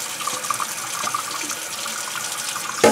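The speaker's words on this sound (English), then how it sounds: "just rinsing them very well in hot water" Hot tap water running while bowls are rinsed in a sink, a close steady splashing flow with small clinks and a louder splash at the end.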